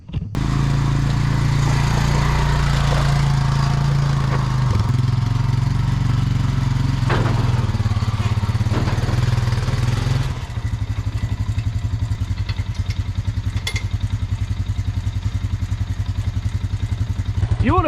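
A four-wheeler hitched to a manure spreader idles and runs steadily close by, a loud continuous engine drone with mechanical clatter, shifting to a slightly different pitch partway through.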